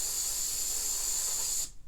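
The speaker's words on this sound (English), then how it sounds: "Now for the black one, you're going to go ahead and spray it." Mod Podge spray can coating a craft spoon, one continuous close hiss of aerosol spray that cuts off abruptly just before the end, with no voices.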